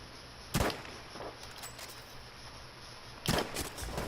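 Two sharp gunshots ring out in Battlefield V, about three seconds apart, loud and punchy over a quiet hiss of game ambience, with no talk.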